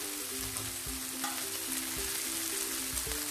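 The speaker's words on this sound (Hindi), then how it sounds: "बॉईल किया हुआ सरसों का साग मिक्स करेंगे।" Boiled mustard greens being stirred into softened tomatoes in a hot pan give a steady soft sizzle and frying crackle, close and fairly quiet, with faint utensil scraping and no talking.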